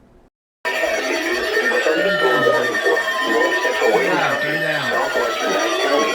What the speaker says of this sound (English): turn down the NOAA weather radios, turn down the early warning devices.